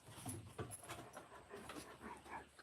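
A dog pants rapidly and lets out soft whimpers close by, a quiet, breathy rhythmic huffing broken by brief whiny yips.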